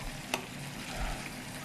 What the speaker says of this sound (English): we're getting some sizzling, which I love to hear on our chicken